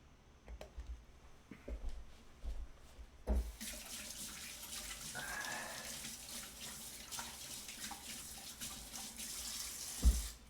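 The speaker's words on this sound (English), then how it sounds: "Let me wash my hands." Running tap water pours steadily into a kitchen sink for hand washing, a broad continuous splash starting after a few quiet seconds of small clatters, with a sharper knock near the end.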